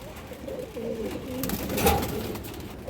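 A big silver pigeon gives deep, rolling coos up close, a continuous throaty warble that swells in the middle, with faint background noise behind it.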